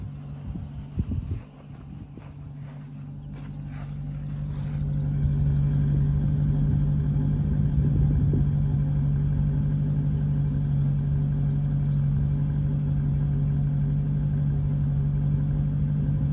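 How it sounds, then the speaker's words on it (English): A show-room-condition 2007 Mercury Grand Marquis engine idles with a steady low hum after a few brief knocks and shuffles, the idle holding smooth and even at close range with no voices. "Let's get outside. Listen to the motor."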